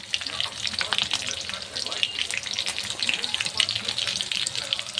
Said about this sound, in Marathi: असं थोडंसं जिरं टाकून घेतलेलं आहे तर हे चांगलं तर तेलामध्ये मी तळून घेतलं